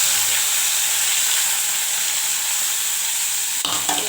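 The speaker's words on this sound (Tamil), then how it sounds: "இப்போ இஞ்சி பூண்டை நச்சு வச்சுருக்கேன் வெங்காயம் தக்காளி கருவேப்பிலையாக அதில் போட்டுவோம்" Ginger, garlic, onion, tomato and curry leaves sautéing in a pan give a loud, continuous close-up sizzle with a brief clatter near the end, no voices.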